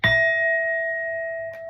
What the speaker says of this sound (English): We're going to hit the bell.